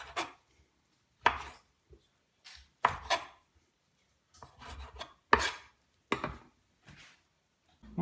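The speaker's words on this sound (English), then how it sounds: "I'm going to just cut this in a small slices." A knife slices roasted eggplant, skin on, on a cutting board: about eight crisp separate chops, spaced irregularly, close and clear with near silence between them.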